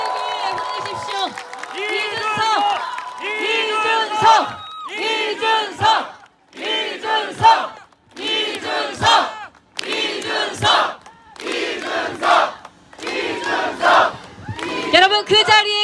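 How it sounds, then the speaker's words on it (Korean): A crowd at an outdoor presidential campaign rally for Lee Jun-seok by Seokchon Lake cheers and roars in repeated loud bursts separated by short pauses, with shouting voices and clapping mixed through the din. "여러분, 더 큰 박수와 함성을 우리 이준석 후보에게 보내십시오"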